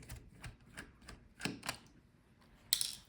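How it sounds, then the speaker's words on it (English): Small screws come out of an Asus ROG GA503RM laptop motherboard during a teardown, a run of quiet, close clicks and ticks at irregular intervals, ending with a sharper metallic click. "Unscrew all the screws."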